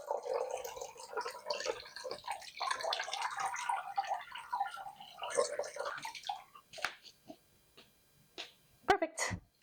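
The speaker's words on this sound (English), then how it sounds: "I'm going to fill up the reservoir. So I'm just adding water to run through." Water poured into the reservoir of a houseplant orchid pot, trickling and splashing steadily for several seconds, then tapering into scattered drips and small knocks as it drains through, quiet and close.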